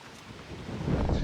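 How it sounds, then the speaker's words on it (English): Strong wind buffets the microphone during a marathon run with a low, rumbling roar that grows louder toward the end, no voices. "It's so windy again."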